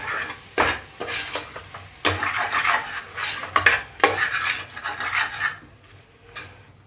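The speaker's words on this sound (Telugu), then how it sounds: "ఇప్పుడు ఇందులోకి టమాటాలు వేస్తున్నాను. ఈ టమాటాలు ఈ కిడ్నీలతో పాటు బాగా కలిసేదాకా కలుపుదాం." A spoon stirs and scrapes through goat kidney curry with freshly added tomatoes in a pan, making repeated rasping, clinking strokes in uneven bursts before fading at the end.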